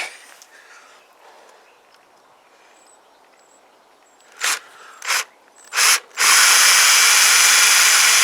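Quiet background, then a few short bursts of a power drill starting and stopping before it runs loud and steady, drilling a pilot hole close by for CPI SUV125 scooter switchgear.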